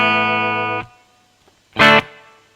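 An electric guitar chord rings through a spring reverb on an MG-300 modeling processor, then cuts off sharply; after a pause a second bright strum sounds briefly, with a short reverb tail.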